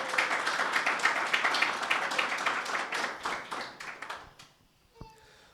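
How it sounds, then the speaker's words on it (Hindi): A church congregation claps together during a Sunday meeting, brisk and fairly close, in a burst of quick hand claps that fades away over a few seconds into near silence. "यीशु मसीह के लिए तालियां बजाएं कलीसिया।"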